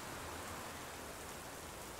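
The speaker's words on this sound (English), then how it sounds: "Under all this heavy rain." Heavy rain falls steadily throughout, a dense even hiss of drops on surfaces, close and constant with no voices.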